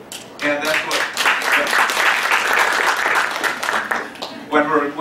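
An audience at a talk on racism and public health in Chicago breaks into applause, a dense, close wash of clapping that swells and holds for several seconds, with a voice speaking briefly near the start and again at the end.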